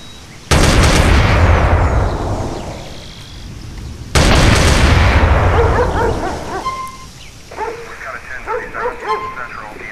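Modded weapon gunfire in the video game GTA San Andreas, two loud booming shots with long decaying echoes, followed by dogs barking and yipping nearby.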